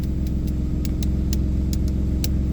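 A Mitsubishi Eclipse engine idles steadily and evenly, a smooth low rumble with faint periodic ticking on top, no talking.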